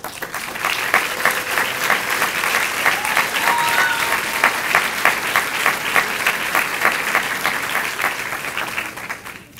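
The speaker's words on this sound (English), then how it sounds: "could you please stand for applause?" Applause at a college of education honors convocation, many people clapping together with a distinct rhythmic pulse of individual claps standing out, sustained and fairly close before tapering off at the end.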